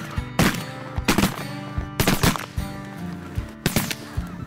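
Shotguns fire during a duck hunt, several sharp blasts in uneven rapid volleys from multiple guns close by, with birds and faint background sound between shots.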